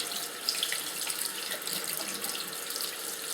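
Cold tap water running into a sieve of rice as it is rinsed in a kitchen sink, a steady close hiss and splash that stays even throughout with no talk.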